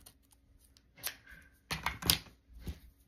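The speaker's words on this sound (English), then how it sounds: "Ginormous scissors." Oversized scissors snip through paper for crafting playing card tags, a few quiet crisp cuts and rustles, close and soft, separated by brief pauses.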